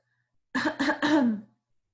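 A short burst of three rough, throaty coughs in quick succession, close and fairly loud, with silence before and after.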